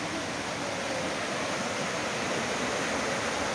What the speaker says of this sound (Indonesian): kalian akan mendapati pemandangan air terjun yang berundak-undak dan banyak bebatuan besar